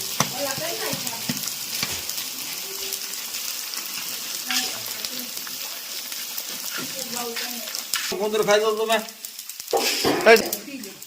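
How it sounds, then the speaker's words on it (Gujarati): Flour roasts in ghee in a pan, giving a continuous sizzle and stirring scrapes, while people talk over it throughout and the sound grows louder toward the end. "લોટ શેકવા નાખી દીધો છે ઘીમાં."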